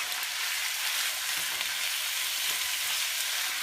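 Pork sizzles steadily as it browns in a frying pan for Puerco con Chile Colorado, a dense, even crackle of hot fat close by with no talk over it.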